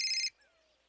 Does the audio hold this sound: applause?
no